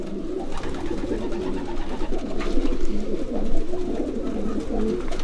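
Several racing pigeons coo softly and repeatedly at close range, their low burbling calls overlapping steadily.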